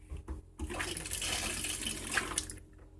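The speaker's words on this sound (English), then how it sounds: "That's my water pump." Water pump running in an off-grid tiny house, a few short clicks and then a close rushing whir of water flow lasting about two seconds before cutting off.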